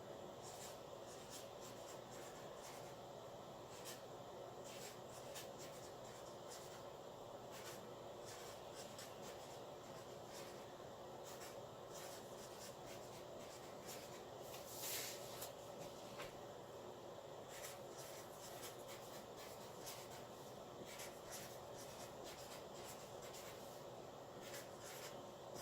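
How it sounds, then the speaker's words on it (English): Pen or pencil writing a name on paper, a steady soft scratching that runs continuously for a long stretch, quiet and close with faint room noise and no speech. "And then I'm going to write his name again."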